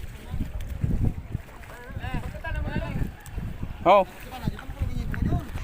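A sea boat carrying a motorcycle, heard as a low rumble of engine and water with wind buffeting the microphone, while people talk and call out over it.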